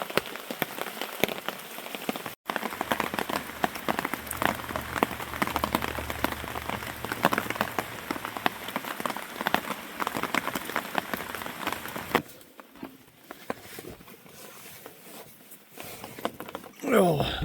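Heavy rain drums steadily on a tarp over a hammock camp, a dense close patter that lasts most of the time before easing to scattered drops near the end.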